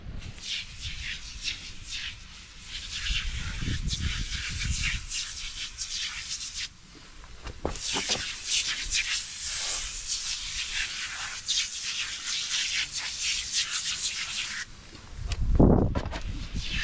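Gunk engine degreaser sprays in hissing bursts onto Nissan 300ZX twin turbo valve covers, with short pauses between squirts and a louder low rush near the end.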